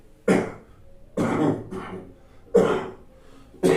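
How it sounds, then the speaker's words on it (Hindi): Four sharp coughs in a row, close and loud, spaced about a second apart with quiet breaths between. "सॉरी, खांसी हो गई है वो"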